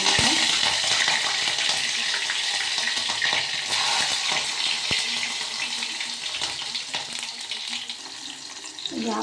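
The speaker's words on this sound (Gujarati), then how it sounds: "એટલે આપણે મસ્ત મરચાંનો ટમેટાનો વઘાર દઈ દીધો છે" Chili and tomato tempering sizzling in hot oil, a continuous moderate hiss with scattered crackles and a few utensil knocks, slowly easing off, no voices.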